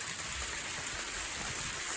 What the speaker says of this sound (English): he's out in the middle of a hailstorm